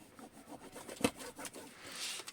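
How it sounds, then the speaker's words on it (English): Tape being burnished down by hand onto a notebook cover, soft dry rubbing strokes with a sharper press near the middle, close and quiet with no talking. "So I'm just burnishing that well down."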